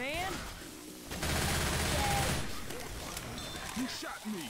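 Rapid bursts of gunfire from the Left 4 Dead 2 video game rattle in a dense volley lasting a few seconds, with players talking over the shooting.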